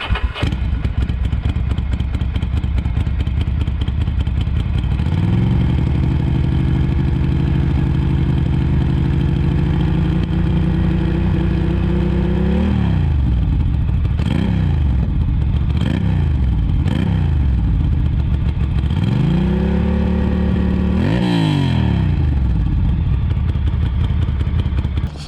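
A Ducati Monster 620 with a single straight-pipe exhaust idling loud and close, then revving up and holding high for several seconds, dropping back, blipping the throttle a few times and revving once more.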